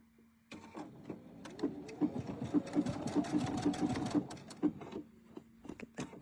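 Sewing machine running a blanket stitch on a quilted blanket, whirring in bursts with rhythmic needle clicks and pauses between runs, close up and without speech.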